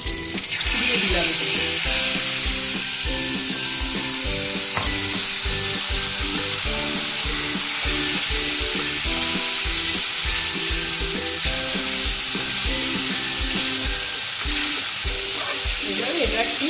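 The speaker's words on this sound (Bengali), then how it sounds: "এই যে ফোড়ন দিচ্ছি, জিরে আর কালো জিরে, লঙ্কা চেরা 5টা দিয়ে দিলাম" Cumin, nigella seeds and five slit green chillies sizzle loudly in hot oil, a dense continuous hiss with spoon scraping and stirring throughout, close and steady for the whole stretch.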